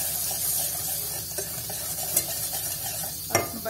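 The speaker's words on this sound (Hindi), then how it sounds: "इसको हिलाते जाना है, बिल्कुल लो से फ्लेम पे पकाना है इसको" Butter toffee caramel stirred in a pan over a low flame, a soft steady bubbling sizzle with occasional light scrapes and clinks of the utensil, close and fairly quiet.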